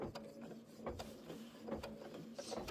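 A sewing machine quilts a flange and border on a Kimberbell Lucky Us quilt, a quiet mechanical whir with a sustained hum and a few sharp clicks at irregular moments, close but faint, with no speech.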